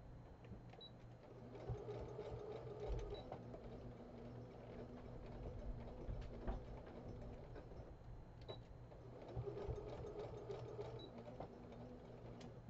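A sewing machine stitches a Halloween scrub cap, a steady fast mechanical whir and needle chatter running for several seconds, pausing briefly midway, then resuming, quiet and close with no speech.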